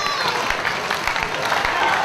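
A wrestling arena crowd roars in a steady, dense wash of cheering and applause while a commentator talks over it.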